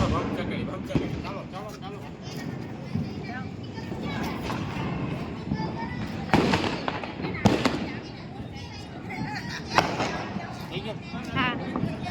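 Several Diwali firecrackers burst with sharp bangs a few seconds apart, mixed in with people chattering nearby.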